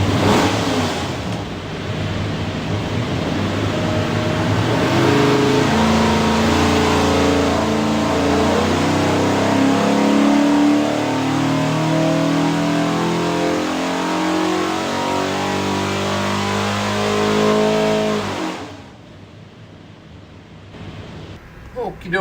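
A 347 cubic-inch small block Ford V8 with a carburetor and Aviaid oil pan roars through a sustained full-throttle pull on an engine dyno, loud and steady for about eighteen seconds before cutting off abruptly.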